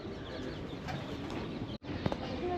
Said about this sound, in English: The birds are so cute.